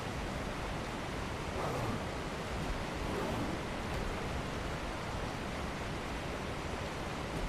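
Waterfalls in the Aberration map of the ARK survival game, a steady dense roar of rushing water, loud and unchanging throughout with no pauses.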